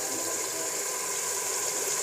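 Water is poured into a pressure cooker holding mince, peas and green chilies, a steady, soft hissing trickle throughout at fairly low volume, with no talking.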